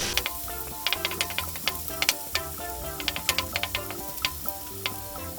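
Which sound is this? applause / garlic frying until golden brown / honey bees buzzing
garlic frying until golden brown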